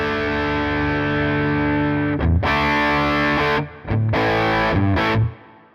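Electric guitar through an amp capture with the input gain cranked all the way up: a sustained, heavily distorted chord rings out, then sharp, loud chugging chords and stabs follow before a brief decaying tail, close and alone.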